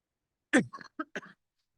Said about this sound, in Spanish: Yo empecé con esta tos hace ya 3 clases